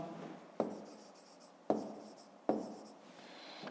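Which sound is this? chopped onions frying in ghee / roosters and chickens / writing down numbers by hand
writing down numbers by hand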